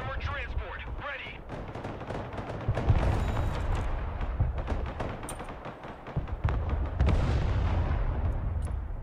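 Artillery and rocket fire in the video game Broken Arrow, with repeated booming blasts and crackling gunfire over a rumbling battlefield while a voice talks throughout.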